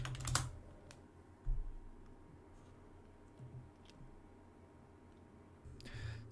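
Typing on a computer keyboard during document editing, with a few quick, soft key clicks near the start and end and sparse taps in between, close but quiet.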